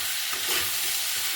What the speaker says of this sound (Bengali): এবার আমি এরকম এটাকে মোটামুটি একটু হালকা ভাজা ভাজা করব।